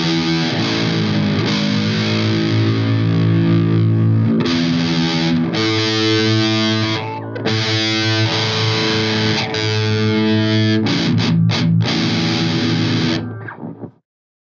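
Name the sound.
distorted electric guitar playing a song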